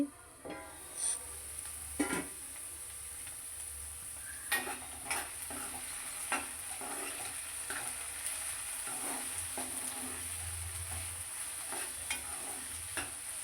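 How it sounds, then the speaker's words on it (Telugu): Ivy gourd pieces cooking in a pan, with a steady quiet sizzle and occasional scraping stirs and light clinks, close by with a constant high-pitched whine in the background and no talk. "మధ్య మధ్యలో కలుపుతూ మూత పెట్టుకొని ఉడికించుకోవాలి"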